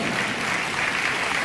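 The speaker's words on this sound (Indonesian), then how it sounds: "Kita beri tepuk tangan untuk Tuhan." A church congregation applauding in praise: a steady, dense wash of clapping from many hands, continuous and fairly loud with no pauses.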